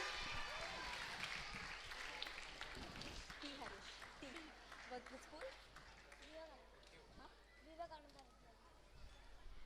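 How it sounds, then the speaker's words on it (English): An audience applauds a prize winner at a school award ceremony, sustained clapping and crowd noise throughout, with voices speaking over it. "Can we give a huge round of applause to him?"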